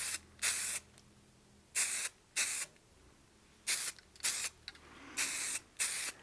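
Short hissing bursts from an aerosol can of spray lacquer onto a turned wooden whistle, about eight sprays in an irregular rhythm, close and clear.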